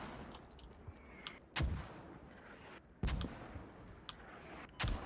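Mortar fire in the military game Squad: three heavy booming impacts spaced a second or so apart, deep and resonant, over quieter background rumble with a few distant pops.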